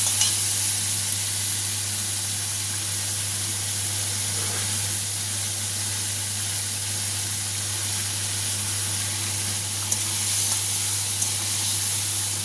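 Small hilsa fish curry sautés in oil with a little water in the pan, giving a steady, even sizzle and hiss that runs unbroken throughout, with no talking.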